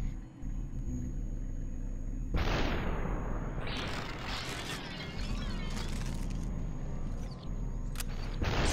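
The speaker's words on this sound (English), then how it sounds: "Do I have to shoot perfectly through the fence?" Gunfire in the video game SUPERHOT comes as a sudden loud blast followed by dense, rumbling crashes and impacts that continue for several seconds over a steady background hum.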